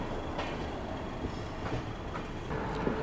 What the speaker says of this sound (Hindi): बिल्कुल स्लोली इसी रफ्तार से ट्रेन आगे बढ़ रही है